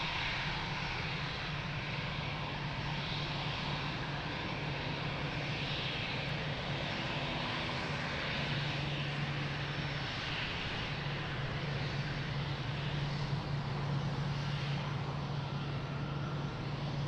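An airplane's engines roar steadily at Lisbon Airport, a broad sustained drone with a low hum that builds slightly midway, heard from a distance without voices.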